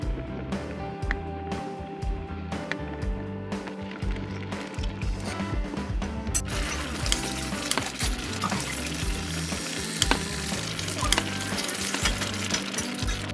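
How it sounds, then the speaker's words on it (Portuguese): Pumpkin dessert with cinnamon and cloves boils in an uncovered pot, giving a steady bubbling sizzle with scattered small pops and clinks that grows busier and brighter midway through. "Vou deixar sem tampa na panela para ela ferver um pouco."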